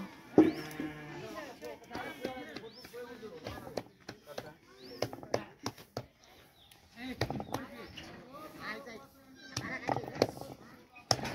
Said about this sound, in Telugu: గొర్రెలు అరుపులు చూడు